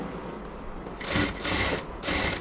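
A sewing machine stitching the gathered bodice of a baby frock, running in three short bursts of busy whirring separated by brief pauses, close and steady.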